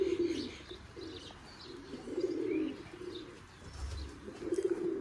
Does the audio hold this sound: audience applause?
no